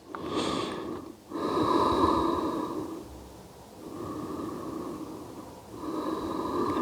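Heavy, rhythmic yoga breathing in several long, loud breaths with short pauses between them, close to the mic and without talk.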